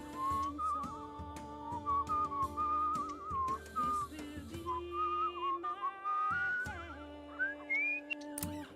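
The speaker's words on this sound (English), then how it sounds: "Let's start whistling." A character whistles a wandering melody in the video game Where the Water Tastes Like Wine. The clear, close whistled notes rise and fall over soft background music, with no talking.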